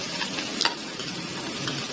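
Fried taro (arbi) is stirred into an onion masala in a pan, giving a steady close sizzle with a brief scraping clatter of the spoon, heard alone without talk.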